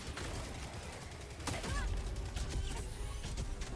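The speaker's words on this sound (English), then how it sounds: "I'm just standing up and shooting." Sustained automatic gunfire in Helldivers 2, a heavy machine gun firing steadily with overlapping impacts and a sharp crash midway, loud and continuous, with no voices over it.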